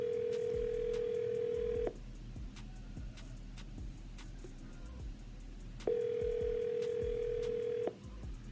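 Ringing tone of an outgoing phone call, sounding twice as a steady two-second tone with a long pause between, over a low rumble of road noise from a car.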